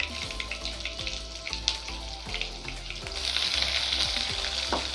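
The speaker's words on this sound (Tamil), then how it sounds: "வெங்காயத்தை நல்லா ஃப்ரை பண்ணிக்கோங்க." Onions fry in hot oil with mustard seeds, urad dal and cumin, giving a steady close sizzle with intermittent scraping stirs and a brighter hiss swelling near the end.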